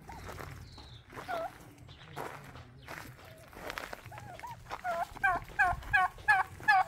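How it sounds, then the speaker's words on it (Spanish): Turkeys in a rural farmyard in Mexico give a series of quick, warbling gobbles that grow louder and more frequent toward the end, over soft footsteps and faint background voices. "Aquí, pues, algunos guajolotes."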